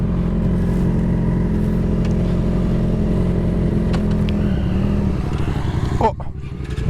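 A Yamaha XJ6F motorcycle engine runs close by with a steady, loud mid-pitched drone, then swells into a sharp rev near the end, while people talk in French over it.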